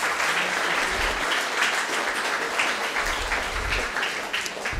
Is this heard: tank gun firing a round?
no